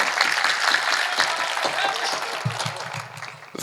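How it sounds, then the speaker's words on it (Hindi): Audience clapping at a Hindi kavi sammelan poetry recital, a ragged round of applause that fades toward the end as a voice begins to speak. "एक बार ताली बजा के आदेशित करिए"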